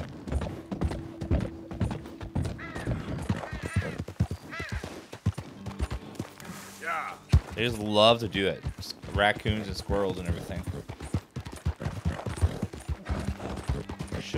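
Horse hooves galloping in Red Dead Redemption 2, a quick uneven clip-clop of footfalls running under a man's close, continuous talk, with occasional snorts and tack rattles.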